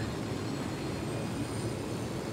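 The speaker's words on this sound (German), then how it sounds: "Malte, unser Heli ist nicht kaputt gegangen. Der fliegt noch" A helicopter flying in the open-world military game Ghost Recon Wildlands gives a steady, broad engine and rotor roar that stays even and fairly loud throughout, with no talk over it.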